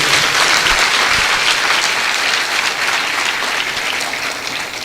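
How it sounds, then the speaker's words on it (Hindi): A church congregation claps for Jesus in loud, dense, sustained applause that fills the room, steady throughout with only a slight fade at the end. "आइए यीशु के लिए एक जोरदार ताली बजाएंगे"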